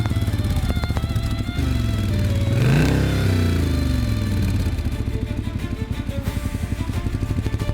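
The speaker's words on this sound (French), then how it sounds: "il entendit un bruit de moteur et un rayon lumineux vint déchirer la nuit." A motorcycle engine revs loudly up close, climbs to a roaring peak and then drones steadily as the bike pulls away into the night.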